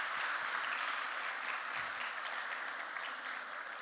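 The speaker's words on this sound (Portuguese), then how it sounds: "Dê uma salva de palmas para esse ator lindo e maravilhoso." A church congregation claps for an actor, with steady, dense applause at a moderate level throughout and no speech over it.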